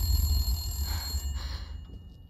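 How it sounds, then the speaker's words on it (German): A telephone rings inside Resident Evil Village: Shadow of Rose, a steady electronic tone over a low game ambience that holds for about a second before fading out. "Telefon!"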